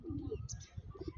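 Pigeons cooing softly in a loft, a short run of low murmuring coos with a few faint chirps, heard up close at low volume.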